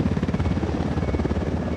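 A helicopter in Ghost Recon Wildlands passes close overhead, its loud pulsing rotor chop steady and dense throughout, with no talking.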